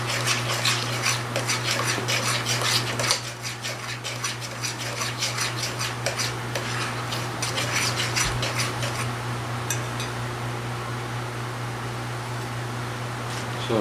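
Sugar being mixed by hand into a butter, egg and banana batter, a steady scraping and rasping stir running continuously over a constant background hum, close and fairly loud.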